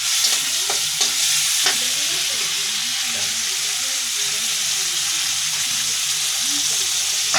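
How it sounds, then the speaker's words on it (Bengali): Prawns and spices fry in hot oil with a continuous loud, close sizzle and hiss, broken by occasional scrapes of a stirring utensil. "মাছ দিয়ে দিচ্ছি, মশলা একটু বাইজে নেবো"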